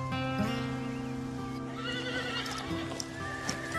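A horse whinnies loudly and close, its neigh rising and falling, while hooves clop steadily beneath it.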